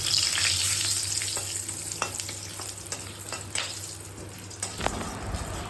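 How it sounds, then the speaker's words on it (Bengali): Bay leaf, dry red chillies, whole garam masala and cumin crackling in hot oil, a dense, bright sizzle up close with several quick spoon stirs cutting through. "তেলের ওপর তেজপাতা, শুকনো লঙ্কা, গোটা গরম মশলা, জিরে দিয়ে দেব।"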